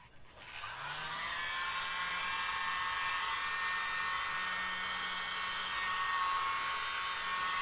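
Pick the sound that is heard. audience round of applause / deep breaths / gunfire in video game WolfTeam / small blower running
small blower running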